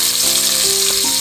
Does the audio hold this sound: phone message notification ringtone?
no